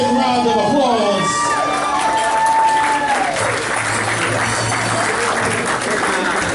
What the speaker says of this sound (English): give the bride and groom a big round of applause